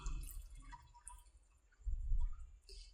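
Water from cooled boiled pasta drains through a strainer in a home kitchen, a soft trickle and dripping with a fuller splash of draining water near the end, heard alone.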